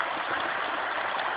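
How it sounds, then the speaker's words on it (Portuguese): Flood water runs through inundated streets in Fortaleza, a steady, dense rushing wash with no breaks, fairly loud and continuous. "Muita água corrente"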